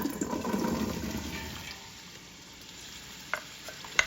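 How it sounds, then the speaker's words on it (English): Chopped onions sautéing in a generous amount of oil, a few cups' worth, give a busy sizzle that is strongest at first and then settles to a softer hiss, with a couple of sharp utensil clicks near the end. "I'm gonna saute the onions until they're translucent and getting soft"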